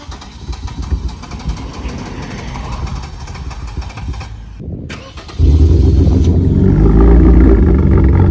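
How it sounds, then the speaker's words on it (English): A car engine with a fitted oil catch can struggles to start, cranking and sputtering unevenly, then cuts out for a moment before it catches and settles into a loud, steady idle. "it is gonna sound like it's having trouble to start"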